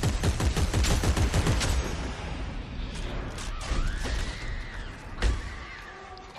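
Rapid bursts of gunfire in the video game Dead Space 3, a dense volley of repeated shots in the first seconds followed by a sustained rumble and a sharp blast near the end.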